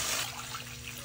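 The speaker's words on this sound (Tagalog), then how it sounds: "Lagyan ng tubig." Water poured into a cooking pot for chicken sotanghon soup, a brief steady rushing pour, close and fairly soft.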